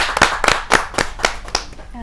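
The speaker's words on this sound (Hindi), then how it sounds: "जोरदार तालियों से आवाज दीजिए शुभम त्यागी जी" Enthusiastic audience clapping welcomes a poet to the stage at a Hindi kavi sammelan, a burst of sharp, close claps in a quick uneven rhythm lasting a couple of seconds.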